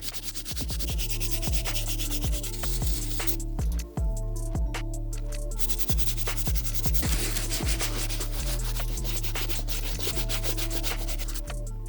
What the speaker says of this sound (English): We're going to be using this brush on the white midsole, the plastic areas on the uppers, the leather, and the tongue.